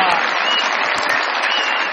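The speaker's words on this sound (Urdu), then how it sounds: "بہت ساری تالیاں میرے بھائی کے لیے" A studio audience at a comedy show breaks into sustained, loud applause, a dense clatter of clapping hands that holds steady from start to finish with no talk on top.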